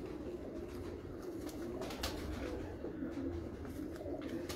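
Cooing of a female Teddy pigeon, a cross from the blue pigeon line, heard as a soft low murmur close by, steady over the whole stretch with a few faint chirps mixed in, no talking.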